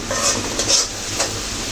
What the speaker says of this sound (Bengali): তো কষে নিচ্ছি মশলাগুলো